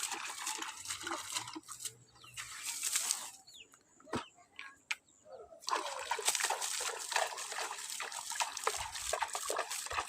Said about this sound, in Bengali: মা পুকুর থেকে জল নিয়ে সবজি বাগানে দিচ্ছে।